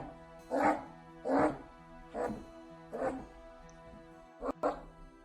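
Timbo the dog lets out a rhythmic run of whimpering yelps while swimming, roughly one every second, close and clear, with a sharp click near the end.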